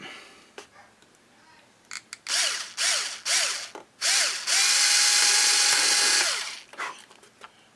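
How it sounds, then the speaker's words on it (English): A power drill drilling a small hole whirs in several short bursts, pitch rising as it spins up, then runs in one long sustained whine before stopping. "We're going to drill a little hole in that."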